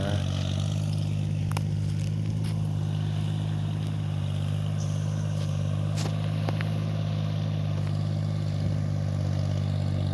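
A tractor ploughs and churns a flooded rice paddy into mud for sowing, its engine a steady, loud, low drone running unbroken throughout, with faint splashing and scraping above it.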